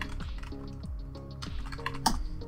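Typing a router login on a computer keyboard: a quick run of soft, close key clicks in an irregular rhythm, ending in a slightly sharper keystroke like pressing enter.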